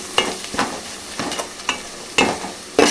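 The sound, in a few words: chicken cooking in oil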